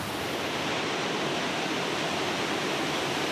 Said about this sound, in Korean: 폭포 가까이 오니까 엄청난 굉음이 들리네요.